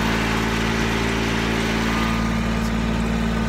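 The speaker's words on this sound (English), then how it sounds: "I'm borrowing the homeowner's tractor." A tractor engine runs in a steady, loud, close-up drone with a low rumbling hum that holds unchanged throughout.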